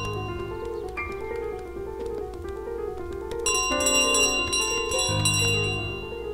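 A small hand bell jingles as the goose carries it in Untitled Goose Game, bright repeated metallic rings over soft background music, growing busier toward the end.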